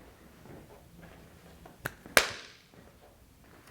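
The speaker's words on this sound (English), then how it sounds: "We're just clapping." A few sharp hand claps in a classroom, two quick separate claps close together, then quiet room tone with no speech.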